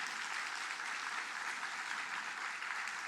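A church congregation at a special dawn revival service claps together in steady, dense applause that fills the room without pause.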